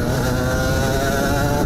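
An Aprilia RS 125 motorcycle with its Rotax two-stroke engine runs steadily at a loud, close, buzzing pitch for a brief stretch, with no voices over it.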